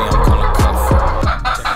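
Chickens cluck in a short series of close, loud bursts, about four or five clucks in quick succession at an outdoor coop, with a steady background hum underneath.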